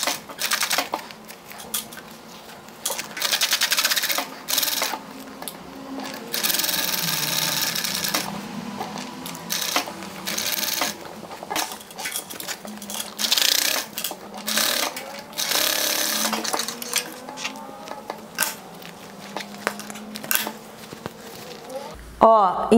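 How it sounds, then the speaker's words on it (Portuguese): A sewing machine stitching thick layers of EVA foam for a slipper runs in fast rattling stretches broken by short pauses, close and steady, with someone talking over it. "Nessa hora aqui você precisa ajudar a sua máquina, porque a gente tá com uma camada, né, bem grossinha aqui."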